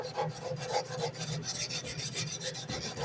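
Hand sanding with 80 grit sandpaper to knock down deep grinding scratches, a continuous rough back-and-forth rasping in quick regular strokes, close up with no talk.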